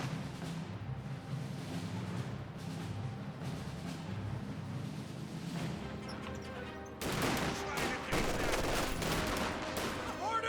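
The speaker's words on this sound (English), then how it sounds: "Good sniper shot there." Gunfire in a Company of Heroes 2 battle, scattered shots under a low rumble and then a sharper, louder cluster of cracks toward the end, with battle noise continuing throughout.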